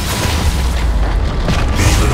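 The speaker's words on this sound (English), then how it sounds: "Enemy turret destroyed." A turret is destroyed in League of Legends with a deep, loud, sustained booming blast that fills the whole moment and has no talk over it.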